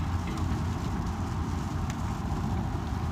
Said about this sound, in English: It ain't raining hard.